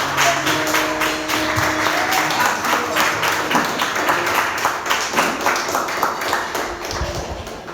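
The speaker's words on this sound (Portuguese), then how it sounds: "Dê uma salva de palmas ao Senhor." A church congregation claps together during a Sunday worship service, a dense, steady wash of many hands filling the room, with faint sustained musical tones underneath.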